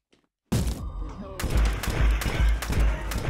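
Uzi submachine gun fire in the RICO shooter game on Nintendo Switch: after a short silence, rapid loud bursts of shots and thudding impacts pound on, dense and close.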